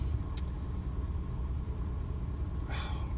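A 1984 Subaru GL car engine idles steadily close by, a low even rumble with a couple of brief high clicks.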